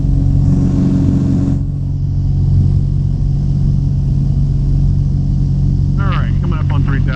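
A Sonex light aircraft engine drones loud and steady in the cabin, its rumble climbing toward about 3,000 RPM, with a voice speaking over it.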